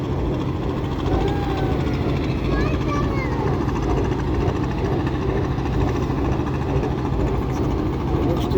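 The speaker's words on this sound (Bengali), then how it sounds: "আমাদের সঙ্গে ক্লোজভাবে লঞ্চটি যাচ্ছে" A passenger launch's engine passes close by in thick fog, giving a steady, loud, low droning rumble that holds throughout without letting up.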